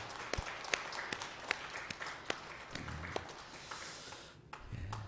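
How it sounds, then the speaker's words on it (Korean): A church congregation claps in thanks to God, sparse sharp individual claps scattered irregularly over a low murmur of room noise, fairly close and moderately loud. "우리 감사의 박수 한번 올려드리기를 원합니다"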